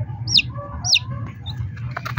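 Hen clucking near freshly hatching chicks, two sharp clucks close by in the first second, then softer scattered chirps over a low steady background hum.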